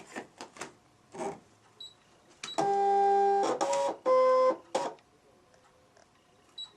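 A Scan N Cut cutting machine slicing a square into a sheet of balsa wood, giving a few loud bursts of whirring motor tones with steady buzzing pitches, separated by short clicks and mechanical knocks, with no talking.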